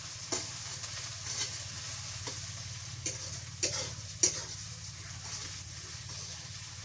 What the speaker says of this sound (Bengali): পেঁয়াজ মশলা ভালো করে ভেজে নিতে হবে, নাল নাল করে নেওয়া লাগবে।